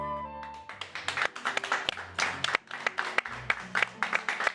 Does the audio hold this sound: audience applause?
yes